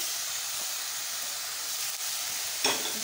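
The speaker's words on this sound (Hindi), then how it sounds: "फिर इसमें मैं प्याज डाल रही हूँ" Onions added to a pan while cooking fenugreek greens hiss and sizzle in a steady, moderate wash, with a brief louder burst near the end.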